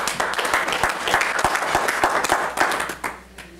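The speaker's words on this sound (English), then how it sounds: "I think you should give yourself a clap" An audience at a Rotary Club meeting breaks into brief applause, a dense round of hand claps that carries on steadily for a few seconds before thinning out at the end.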